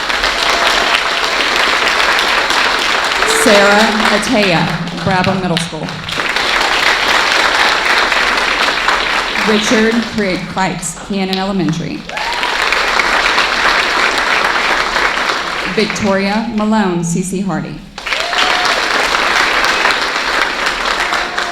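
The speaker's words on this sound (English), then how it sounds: "please join me in applauding them as I call them up for recognition" Sustained applause from an audience at a school board meeting as school nurses are called up for recognition, loud and continuous, with a voice reading names over it in three short bursts.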